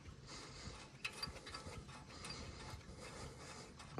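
A ratchet works on 22mm brake caliper bolts of a 2012 Isuzu D-Max, giving quiet, close, rapid clicking bursts with a few sharper ticks, and no talking.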